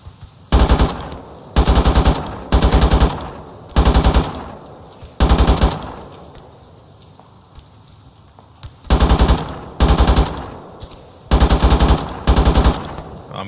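Bursts of automatic gunfire in the military video game Arma 3, arriving in repeated loud volleys of a second or so each, separated by brief quiet gaps, with no talking.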